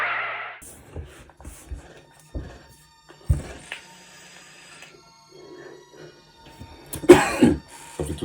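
A person coughs several times in short, separate bursts, fairly close, with quiet pauses and a few soft thumps between them.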